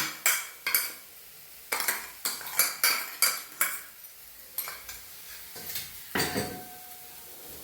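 Ground coconut being stirred in a pan with a metal spoon, a run of sharp clinks and scrapes against the pan at an uneven rhythm, close and clear with no talk.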